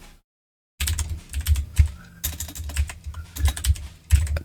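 Rapid typing on a computer keyboard, close and crisp, with uneven clusters of clacking keystrokes and a few heavier thumps, after a brief moment of silence.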